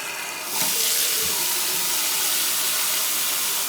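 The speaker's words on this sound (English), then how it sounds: "That's all the residue coming out of the pipes." Water bursts from a newly fitted bathroom tap, flushing residue from the pipes, and gushes in a loud, steady hissing rush that continues without a break.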